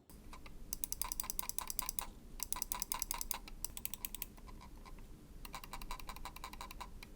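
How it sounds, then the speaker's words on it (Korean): Quick bursts of light, rattly left-button clicks from a Razer Basilisk X HyperSpeed mouse with a loose switch, in rapid clusters with short pauses, close up and fairly quiet against a low background hum. "좌클릭 버튼이 스위치와 몸체 간에 유격이 있어서 그런지 모르겠는데 좀 팅팅거립니다"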